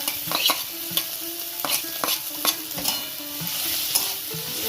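A spoon scrapes and stirs fried coconut through sizzling food in a pan, with repeated clinks and a constant frying hiss close up.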